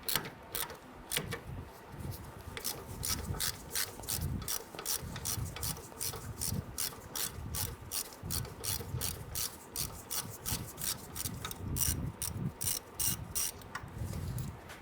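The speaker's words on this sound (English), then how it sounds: "These are E8 socket here. I'm going to use an extension to get beyond the strut." Socket wrench with an E8 socket and extension ratcheting on the front suspension of a 1994-2004 Ford Mustang during a lower ball joint replacement, with a rapid, steady run of close, loud ratchet clicks throughout.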